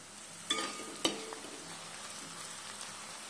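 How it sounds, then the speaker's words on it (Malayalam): Onions are stirred in a frying pan while cooking for a traditional medicinal milk porridge. A soft, steady sizzle runs throughout, broken by two sharp spatula scrapes close together near the start. "ഉള്ളി ഇളക്കി കൊടുക്കാം"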